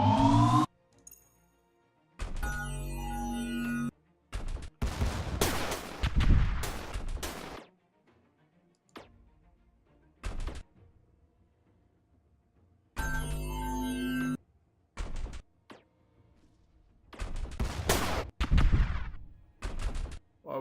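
Missiles fire during a space battle in the strategy game Stardrive 2: several sharp launches and blasts arrive in separate bursts with silent gaps between them, loud and close, with no speech.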